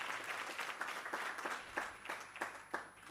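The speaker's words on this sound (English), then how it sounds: "Can you just give her a round of applause?" An audience at a teachers' and practitioners' research colloquium breaks into applause: a steady, fairly close patter of many hands clapping, with a few sharper claps standing out over about three seconds.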